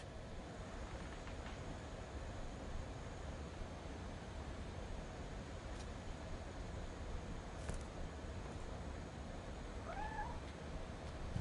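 A cat meows faintly and briefly near the end in What Remains of Edith Finch, a short rising call set against a steady ambient hiss with a few light clicks.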